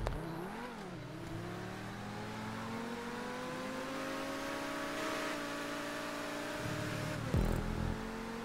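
Race car engine in GTA V Online stunt racing, revving steadily with rising and falling pitch sweeps across the whole stretch, loud and close, ending in a brief burst of louder engine noise.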